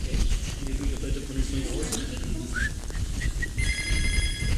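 Several telephones ring at a KCOS television telethon, with electronic trills and a sustained tone heard over crowd bustle and talk.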